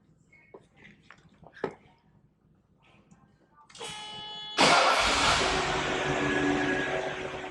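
A 1981 Mercedes-Benz 380SL is started with the key: faint clicks and soft movements, then the starter whirs and the engine catches with a loud burst, settling into a steady, smooth idle.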